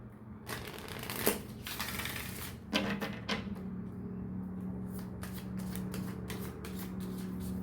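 Oracle cards are shuffled and handled close up, a run of soft papery riffles and flicks with a couple of sharper slaps, continuing steadily with no voices.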